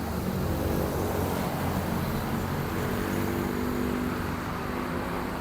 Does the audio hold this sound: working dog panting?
no